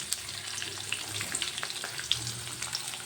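Mustard seeds, curry leaves, chopped onions and green chillies fry in hot oil for a chana masala, giving a steady crackling sizzle with scattered pops and faint stirring scrapes throughout, no voices.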